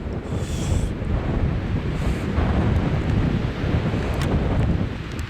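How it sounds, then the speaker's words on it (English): Strong wind roars and buffets the microphone in a steady, loud rush near the Mammoth Lakes slopes, with a few faint high whistles and no voices. "It was so windy."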